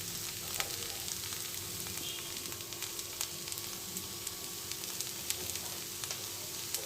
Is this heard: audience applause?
no